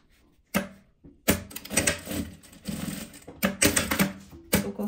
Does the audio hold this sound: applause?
no